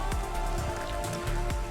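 Rain falling steadily in the video game Cloudpunk, a dense continuous patter of raindrops on surfaces with a few sharper individual drips, loud and close, without talking.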